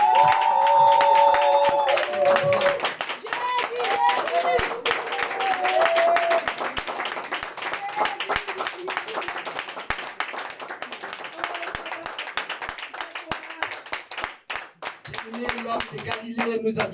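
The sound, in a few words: church congregation clapping and cheering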